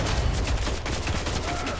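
Rapid automatic fire from the Hakke Test A auto rifle in Destiny, a dense continuous burst of gunshots running through the whole stretch at steady loudness, with no talk over it.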